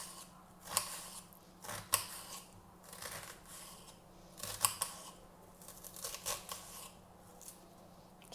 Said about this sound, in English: I'm cutting the onions